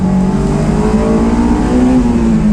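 Honda S2000 AP2 with a six-speed manual, engine droning loud and steady under way, a smooth sustained tone slowly climbing in pitch, close up with no talk.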